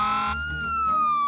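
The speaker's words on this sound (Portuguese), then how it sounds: "não se esqueça da sirene" A wailing fire truck siren sweeping downward in pitch, loud and close, sounding alone for just over a second.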